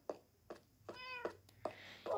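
A cat in the Bee Craft video game meows repeatedly, with five or six short, fairly quiet meows at a steady pace, one of them more drawn out and tonal, heard alone.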